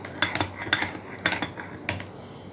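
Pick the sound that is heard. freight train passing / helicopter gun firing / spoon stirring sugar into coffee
spoon stirring sugar into coffee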